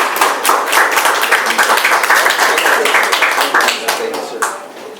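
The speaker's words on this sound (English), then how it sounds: "please give a round of applause for Alderman Bob Fiorelli" An audience applauds Alderman Bob Fiorelli with dense, sustained clapping from many hands, loud and continuous for several seconds before it starts to thin out near the end.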